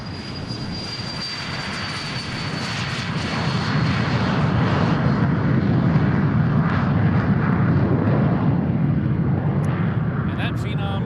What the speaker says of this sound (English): that Phenom is noisy. My God, is that plane noisy